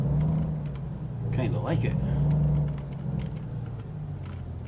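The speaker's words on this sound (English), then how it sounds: "Now this truck has some engine sound, that's for sure." Heavy truck engine in American Truck Simulator, a steady low rumble with a broad hum that swells slightly midway, running continuously under a brief spoken remark.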